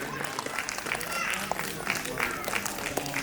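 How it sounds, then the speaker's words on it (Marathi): An audience at a Maharashtra Icon awards ceremony in Kalyan, Thane, keeps up a dense, continuous wash of applause, with a voice speaking over the clapping throughout. "मला असं वाटते टाळ्यांचा आवाज थांबला नाही पाहिजे"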